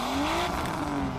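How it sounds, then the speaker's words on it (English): A race car's exhaust and engine roar in Need for Speed The Run, a brief steady mid-level drone with a rising pitched whine, heard alone without talk. "And of course, you know, there's the exhaust."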